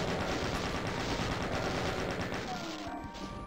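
Sustained machine gun fire in the video game Doom, Sigil, a dense unbroken rattle of rapid shots that fills the whole stretch and eases slightly toward the end.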